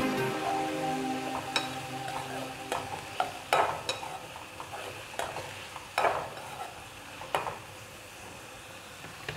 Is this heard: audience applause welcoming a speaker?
no